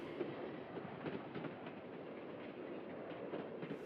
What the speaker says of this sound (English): shows the last train leaving the camp,